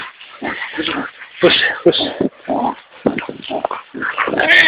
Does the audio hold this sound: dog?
yes